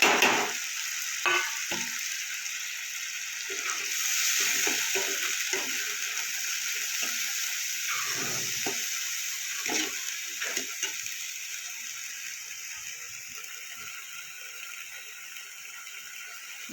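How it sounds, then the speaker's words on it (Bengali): Powdered spices and mixed winter vegetables fry for a Bengali panch mishali tarkari: a constant hissing sizzle with repeated scrapes and knocks of a spatula stirring in the pan, steady and close, without talk. "মশলাটা ভালো করে কষিয়ে নেব"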